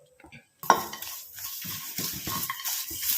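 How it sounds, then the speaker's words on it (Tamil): Grated coconut and curry leaves frying and being stirred in a pan, with a sharp utensil clatter at the start followed by steady scraping and light sizzling close by. "இப்போ இது ரெண்டையும் நல்லா நம்ம ஃப்ரை பண்ண போகிறோம்."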